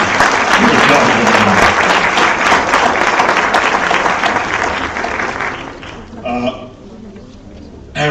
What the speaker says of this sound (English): Tonight, and here you should applaud, we celebrate you